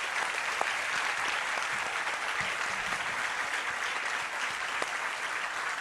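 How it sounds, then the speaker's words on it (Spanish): Church congregation applauding during a service, a steady, even wash of many hands clapping at moderate volume for about six seconds. "yo creo que se merece un aplauso nuestro."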